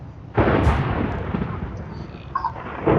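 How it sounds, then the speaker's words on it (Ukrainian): An explosion in the video game Minecraft goes off as a single heavy, close boom, then a rumbling tail that lingers under low background noise. "Щось вибухнуло."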